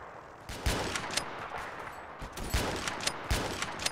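Sharp, heavy shots from a quad launcher rifle in the shooter game Ravenfield, firing in spaced bursts of booming blasts, loud and close with no talk over them.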